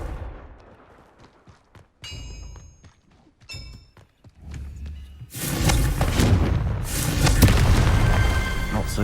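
In the video game Hogwarts Legacy, a Confringo spell is cast: scattered game thumps and chimes come first, then a loud, sustained fiery explosion roars and rumbles for several seconds.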